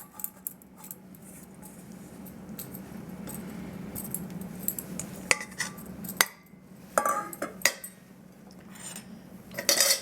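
Ground almonds, an egg and cream cheese being mixed in a bowl for a keto tart base, with irregular clinks and scrapes of a utensil against the bowl over a low steady background hum.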